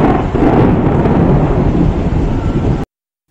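A lightning strike during a heavy thunderstorm with gusty wind and rain at the Yoga Narasimha Swamy temple in Bhadradri produces a loud, sustained deep rumble of thunder that cuts off abruptly into silence, no voices.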